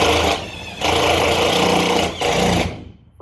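A cordless drill whirs loudly in two bursts, driving a screw into a stud inside an enclosed trailer, briefly pausing between them before spinning down to quiet, close up with no talking.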